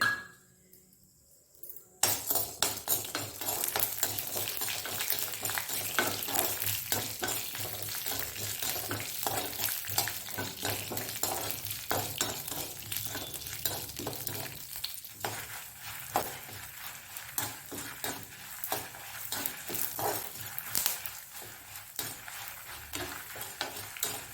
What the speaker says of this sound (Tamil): கறிவேப்பிலை கொஞ்சம் போட்டுக்கலாமா. காஞ்ச மிளகாய் போட்டிருக்கேன். இதை நல்லா நம்ம வறுத்து எடுத்துக்கலாம்.